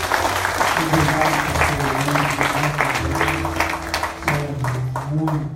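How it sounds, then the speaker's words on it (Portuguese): A church congregation at a leaders' dinner in Angola claps together, the applause broad and steady, with voices, shouts and a sustained tone running beneath it. "Vamos aplaudir o Senhor mais uma vez."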